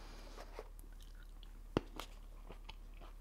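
Ripe Praxis cherry tomatoes are bitten and chewed up close, giving a soft crunch, one sharp bite and then quiet, moist chewing at low volume in a still room.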